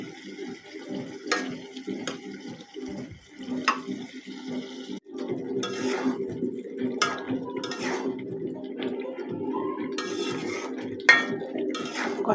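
Chicken gizzards and liver being stir-fried in a pan for a restaurant-style bhuna, with a spatula repeatedly scraping and clinking against the pan over a low background sizzle, close and moderately quiet.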